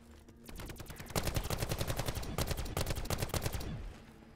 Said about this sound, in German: Schieß mal einfach random auf einen, vielleicht geht einer an.